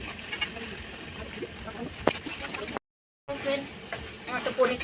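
Paneer cubes frying lightly in a pan, a steady close sizzle and hiss with brief spatters, broken by a short silent gap midway.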